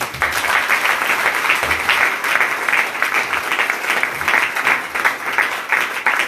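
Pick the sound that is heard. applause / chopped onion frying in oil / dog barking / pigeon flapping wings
applause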